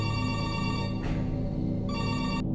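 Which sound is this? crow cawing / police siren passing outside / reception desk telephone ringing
reception desk telephone ringing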